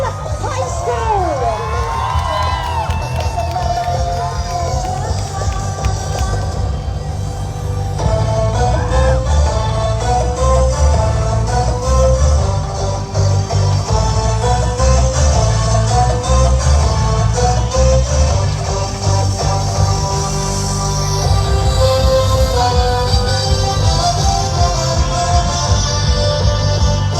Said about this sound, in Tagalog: A round of applause for our last contestants.